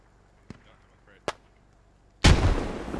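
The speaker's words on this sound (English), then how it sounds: "Jacob just launching grenades." Grenades launched in the military shooter Squad: two sharp distant thumps a moment apart, then a loud close blast with a rumbling, crackling tail.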